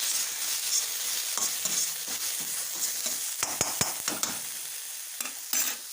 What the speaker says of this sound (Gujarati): આદુ નાખીશું આદુ નાખીએ આદુ મસ્ત લસણ પાકી ગયું છે